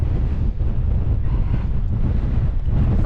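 Strong wind buffets the microphone on the summit of High Rigg, a fell in the Lake District, as a loud, steady low roar with slight gusting throughout and no voices.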